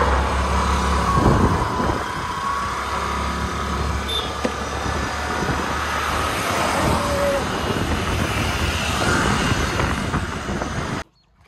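A car passes along a road on the way to a village lake, its engine and tyre noise a steady near rumble that holds throughout before cutting off abruptly at the end.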